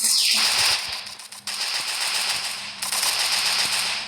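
Rapid bursts of automatic gunfire crackle through a Free Fire battle-royale match, loud and close, in uneven volleys with short pauses between.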